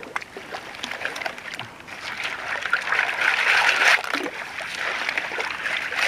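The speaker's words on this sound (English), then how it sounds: "So now I'm digging in the water" Shovel digging in a cold autumn stream while gold prospecting in brownish red soil; steady splashing and churning water throughout, swelling louder in the middle, with no voices.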